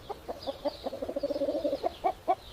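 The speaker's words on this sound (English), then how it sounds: "This is a hen." A hen clucks in a series of short, close, mid-pitched calls, quickening into a run of rapid clucks and then slowing to a few separate ones, with no talking.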